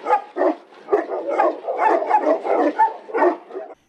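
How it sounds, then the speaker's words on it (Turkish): Purebred dogs at a Tibetan Mastiff breeding association in Bursa bark and yip repeatedly, close and loud, in a busy overlapping run with some whimpering. "Bursa'da safkan köpek yetiştiren 42 yaşındaki Evsin Şentürk, kurduğu Avrasya Tibet Mastifi Irk Derneği'nde farklı cins köpeklere eğitip satışa sunuyor"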